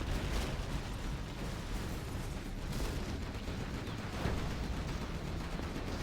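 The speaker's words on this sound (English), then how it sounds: "Still firing the Anthrax missiles" Anthrax missiles launching and exploding in a Command & Conquer-style real-time strategy match on the Stonehenge map, a dense, continuous roar of rumbling blasts and booms with no distinct gaps.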